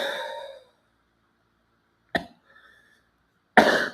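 A person imitates a cough with a few short, abrupt bursts separated by silence, nearby and fairly loud, following a brief vocal sound at the start.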